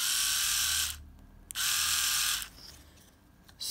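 A faulty Philips electric shaver motor whirs steadily on a low battery, cutting out briefly, restarting, then fading away, loud and close with no talk.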